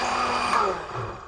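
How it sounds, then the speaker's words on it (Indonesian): Electric blender grinding a spice paste with added water for fish gulai, a steady loud whirring motor drone that holds for over a second and then eases slightly, with no voices. "Kemudian kita blender ya."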